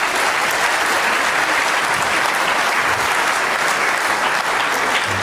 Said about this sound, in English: Just a round of applause from the Crucible crowd